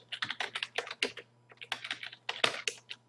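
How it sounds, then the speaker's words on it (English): Fast typing on a computer keyboard, close and clear, with quick runs of key clicks, a short pause, then another burst over a faint steady hum. "just type it"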